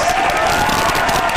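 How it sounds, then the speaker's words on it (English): A studio audience applauding and cheering for Knox County Mayor Glenn Jacobs as he arrives as a guest, a loud, dense, brief burst of clapping and crowd noise. "It's a big applause."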